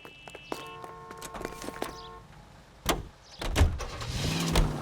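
A car in LA Noire being entered and set off, with a door, clunks and mechanical whirring followed by the engine starting and rising to a steady drive-away rumble near the end; no talking.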